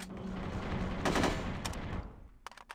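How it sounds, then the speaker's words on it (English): Gunfire at a safe in the video game No One Lives Forever 2, a rapid burst of shots packed close together, loud in the middle and tapering off, with a few sharp cracks at the end. "Okay, you just shoot it and it opens."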